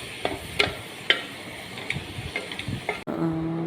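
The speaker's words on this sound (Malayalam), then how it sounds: "ഇതെല്ലാം ഒന്ന് ഇളക്കി ഒന്ന് മിക്സ് ചെയ്യുക" A spoon scrapes and clinks through beef curry with garam masala cooking in a pan, Kerala style, in sparse irregular taps over a soft background sizzle, close and fairly quiet.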